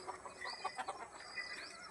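Desi country-breed chickens cluck in short, scattered bursts nearby, a few overlapping hens murmuring and calling softly with no talking.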